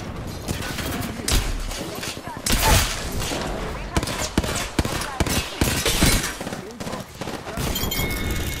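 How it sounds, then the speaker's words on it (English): Gunfire in the Apex Legends battle royale game, with repeated loud bursts and sharp shots across the whole stretch and players' voices talking over the fighting. "Are this team getting shot at?"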